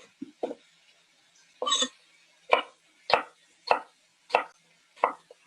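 A knife slices fresh produce thin on a board: a steady run of about eight crisp, close strokes, quiet but distinct, evenly spaced with short silences between.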